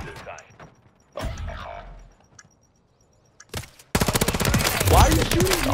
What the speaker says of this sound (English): Our teammate's shooting me instead of him.